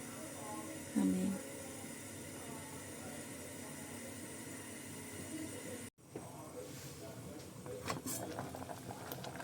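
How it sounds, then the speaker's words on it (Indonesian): Soup boiling in a pot on the stove after an hour of simmering, a soft continuous bubbling hiss heard fairly quietly, with a brief clunk partway through and faint background voices. "Penampakan sup ya guys, 1 jam setelah direbus."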